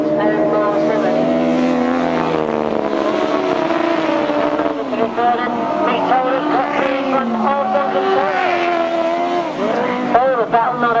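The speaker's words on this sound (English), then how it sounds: "Miles Simmons going down that back straight, looking perhaps for their first heat win this afternoon." Grasstrack racing motorcycles screaming down the back straight at a 1998 meeting, engines loud and sustained with shifting pitch as they pass, under continuous commentary.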